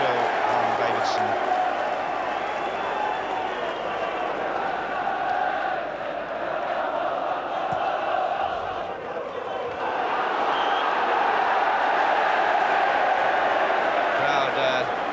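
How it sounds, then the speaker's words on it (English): A large football stadium crowd at a Nottingham Forest match applauding a free kick, a broad sustained roar of clapping and voices with a commentator talking over it. "Crowd ironically applauding the fact that this free kick has gone to Forest"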